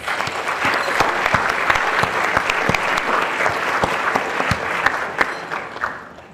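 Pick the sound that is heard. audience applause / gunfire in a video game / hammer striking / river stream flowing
audience applause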